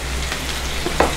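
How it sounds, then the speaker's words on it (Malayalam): Finely sliced onion frying in a pan for beef biryani, a dense steady sizzle with a brief stirring knock near the end. "സവാള നല്ല നൈസായിട്ട് അരിഞ്ഞെടുത്താണ് വറുത്തെടുക്കാം"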